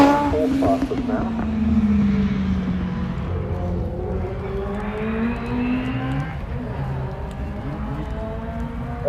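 A race car on a hillclimb run passes by, its engine note rising and falling as it goes, with loud commentary speech running over it.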